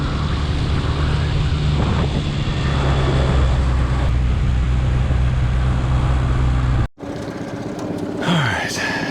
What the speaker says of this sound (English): The wind has only picked up.